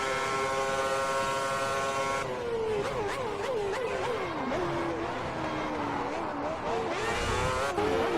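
Race cars in the F1 2010 video game jostle three wide into a hairpin at Germany, engines whining and shifting pitch as they brake and accelerate together, loud and continuous, with someone talking over the racing.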